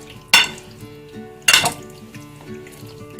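A metal spoon stirs chicken in a pot, giving two sharp clanks against the side and a few softer scrapes and taps between them, close and without talk.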